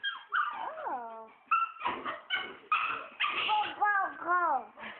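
A puppy whimpers and yips in rising, falling whines with short yelps, close and fairly loud, as a person talks in between.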